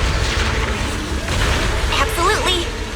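Explosions in the video game Zenless Zone Zero, deep booming blasts rolling under a layered game soundtrack and effects, with character voices speaking over them.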